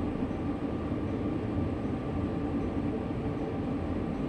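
In the Train Sim World 2 game, a heavy freight train on Sherman Hill runs away downhill with its brakes fully applied, a loud, steady rumbling roar of wheels and cars with no letup.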